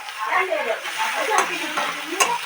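Fish curry (macher jhol) cooking in a pan, with a steady sizzling and bubbling under continuous talking.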